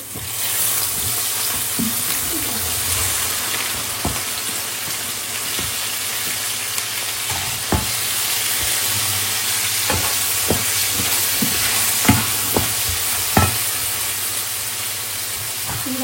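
Potatoes sizzle steadily in a pan, close and fairly loud, with scattered scrapes and clacks of stirring breaking through the frying hiss and no voices.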